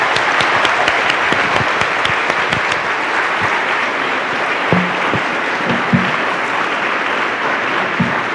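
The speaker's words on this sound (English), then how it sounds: "let's all give them a big round of applause" Congregation at a 50th anniversary service applauds charter and founding members with a long, full round of clapping, individual sharp claps standing out near the front, the sound holding steady for several seconds.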